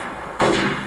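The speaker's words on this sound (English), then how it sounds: "And then I added a scream and a gunshot." A gunshot sound effect dropped into a hip-hop beat, heard as a single loud, sharp blast that cuts in abruptly partway through and then rings out with a broad, sustained tail over the music bed.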